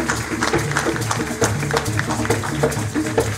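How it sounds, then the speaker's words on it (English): An audience at a rally gives a round of applause, a busy patter of clapping hands under a sustained low tonal hum, fairly loud and even throughout. "round of applause, ladies and gentlemen"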